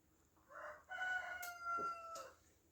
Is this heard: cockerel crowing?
yes